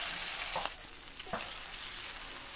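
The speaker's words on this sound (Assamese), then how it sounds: "ইয়াত মই দি দিছো সৰিয়হৰ তেল তেলখিনি ভালদৰে গৰম হোৱাৰ পিছত মই মাছ দি দিছো" Fish pieces fry in hot mustard oil in a frying pan, a steady close sizzle with faint clinks and stirring noises, no voices.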